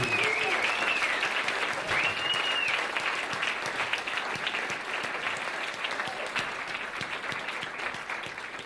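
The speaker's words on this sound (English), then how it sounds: "Let's give a really big round of applause" Sustained applause from an audience at an evening event, with a whistle rising above the clapping early on and steady dense clapping continuing to the end.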